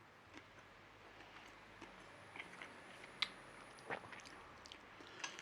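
Close, crunchy chewing of a breaded chicken parmo topped with stringy mozzarella, with repeated crisp bites and soft squishy chews over a quiet background and no talking.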